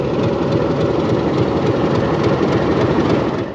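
Narayanganj commuter train running on its line, a loud continuous low rumble of wheels and carriages close by, steady throughout with faint rhythmic rail clatter and a slight fade at the end.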